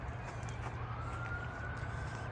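A police car's siren sounds in the distance as a thin steady wail rising slightly, over constant low rumbling traffic noise.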